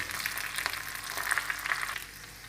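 Garlic fries in hot oil in a tempering with mustard seeds, cumin and curry leaves, giving a steady close-up sizzle with small crackles and pops throughout and no talking.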